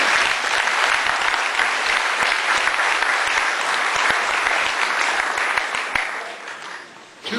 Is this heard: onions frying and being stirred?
no